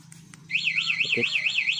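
A Honda Beat Fi Street motorcycle alarm gives a couple of short chirps on unlock and then switches to a loud, warbling electronic siren that rises and falls rapidly, close by.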